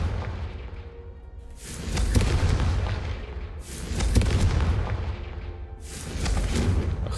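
In the Hogwarts Legacy game, the Confringo explosion spell is cast: three loud, booming blasts come a couple of seconds apart, each swelling and then fading into a rumble, with no voices.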